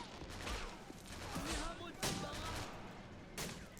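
Japanese light machine gun firing in a WW2 free-for-all shooter game with a realism mod: sharp bursts of shots over continuous battle noise, with a few louder cracks standing out.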